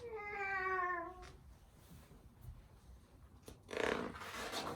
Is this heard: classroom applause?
no